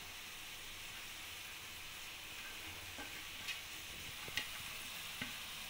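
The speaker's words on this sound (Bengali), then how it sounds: "এগুলোকে দিয়ে ভালো করে নাড়িয়ে নেব।" Fried hilsa fish heads, fried lentil dumplings and chopped coriander are stirred with pumpkin in a pan, making a soft, steady sizzle with a few faint clinks from the utensil.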